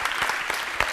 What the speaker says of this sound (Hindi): ये तालियां किसने कहा बजाने को?